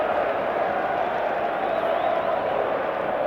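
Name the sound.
English fans cheering in the stadium crowd at a rugby league test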